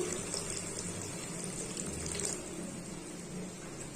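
Water streams steadily into a cooking pot, a continuous close splashing pour with a slight swell midway.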